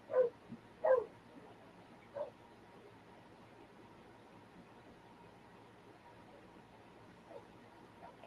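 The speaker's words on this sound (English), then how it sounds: "I hear Buddy barking" A dog barks a few times in short, fairly distant bursts, then the outdoors goes quiet apart from faint background hiss.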